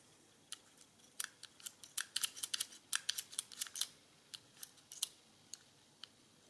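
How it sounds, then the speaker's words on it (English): Toothed wheels of an Elm City Counter click into place against their leaf springs, giving a run of sharp, close, irregular ticks and clicks, some clustered quickly, with no talking. "all the wheels have a little leaf spring against the toothed wheel, so that they click into position"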